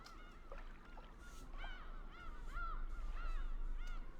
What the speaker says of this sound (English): I'm just sitting here listening to the seagulls crying